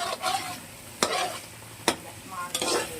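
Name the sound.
garlic paste frying in a pan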